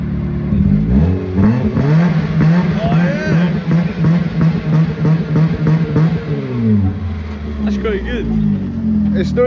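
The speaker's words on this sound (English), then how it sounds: "It's a good exhaust. That sounds good." A car fitted with a new cheap aftermarket exhaust revs repeatedly, loud and close, its engine note climbing and falling in a pulsing rhythm before settling, with a voice talking faintly near the end.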